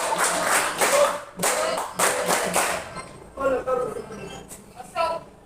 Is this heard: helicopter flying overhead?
no